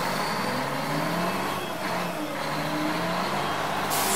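A garbage truck pulls away with a continuous, loud engine rumble and road noise that carries across the whole stretch, with no voices.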